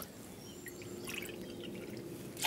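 Water is poured into a pot of rice, 4.5 dl of water to 3 dl of rice, giving a soft, faint trickling and splashing that runs steadily for a couple of seconds in a quiet kitchen.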